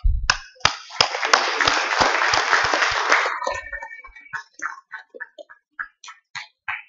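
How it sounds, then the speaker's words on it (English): Conference audience applauds the staff: a dense burst of clapping rises quickly, holds for about three seconds, then thins into scattered individual claps and clicks. "A round of applause for the staff"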